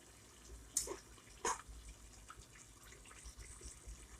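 Hot water from a kettle poured over meat cooking with onions in a pot, a faint liquid splash with two brief sharp bursts early on, then a low steady sizzle and trickle, quiet and close.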